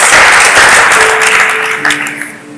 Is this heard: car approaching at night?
no